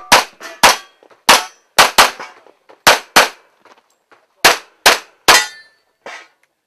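Pistol shots ring out on an IPSC shooting stage aimed at headshot targets, roughly a dozen loud, sharp cracks in quick pairs and triplets with brief pauses between, close and echoing slightly.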